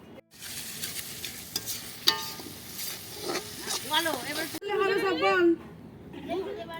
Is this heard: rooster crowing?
no